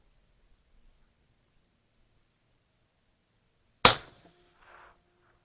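A single sharp shot from a 24-inch bolt-action AR15 rifle cracks out loud and close after a stretch of near silence, then decays quickly with a faint trailing echo.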